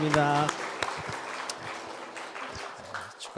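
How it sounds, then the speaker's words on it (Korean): A church congregation clapping in celebration during an afternoon worship service, a continuous patter of applause with a voice heard briefly at the start. "축하의 박수 드리겠습니다"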